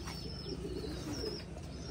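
Loft pigeons coo softly in low, rolling murmurs amid faint chirps and light rustling, quiet and close, with no talking.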